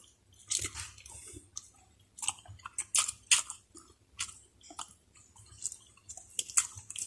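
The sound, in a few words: chewing food, eating a hotdog breakfast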